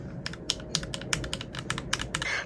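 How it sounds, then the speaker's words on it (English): Clicky keys clatter on a wireless mechanical keyboard, with rapid irregular bursts of sharp, close taps and no talking. "So here when you click on the keyboard, it makes very clicky noises"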